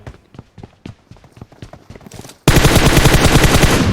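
Gunfire in the mobile battle-royale game PUBG Mobile: a few scattered sharp shots, then an abrupt, loud, sustained burst of rapid automatic fire that fills the rest of the moment.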